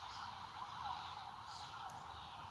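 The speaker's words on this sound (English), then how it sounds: "sirens going off as a clarification of our connection" Emergency sirens wail faintly in the distance outside, a thin, drawn-out tone over low rumbling background noise.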